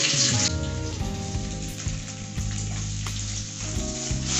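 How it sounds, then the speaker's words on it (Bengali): Onion frying with chopped tomato and green chili for chicken biryani, a loud, dense sizzle close by throughout, with occasional stirring clatter over a low hum, no talk. "পেঁয়াজটাকে ভেজে নেব। দিয়ে দেবো টমেটো কুচি আর লঙ্কা কুচি।"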